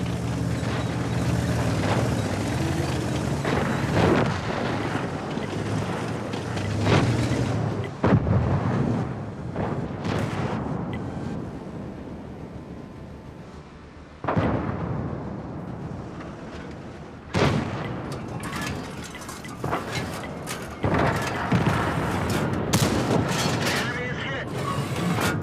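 Tank cannon fire and shell explosions from World of Tanks on the Prokhorovka map, heavy booming blasts arriving in bursts over a continuous rumbling battle bed, with a commentator talking over much of the action.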